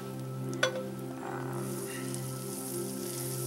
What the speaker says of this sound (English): You get a little more sizzle.